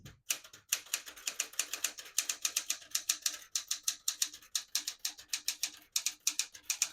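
A 1975 Smith-Corona Galaxie Twelve portable typewriter with elite typeface being typed on, a steady run of crisp, close keystrikes in quick irregular rhythm, with no voices.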